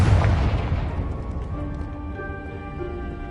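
A Confringo fire spell explodes in Hogwarts Legacy with a loud booming blast at the start that rumbles and slowly fades over a few seconds, leaving a faint tonal hum behind.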